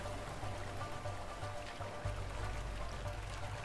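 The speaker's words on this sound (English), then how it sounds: "Waterfall!" Continuous rushing water from a waterfall during a rowing sequence in the video game A Way Out, a steady broad wash with a low rumble, loud and unbroken throughout.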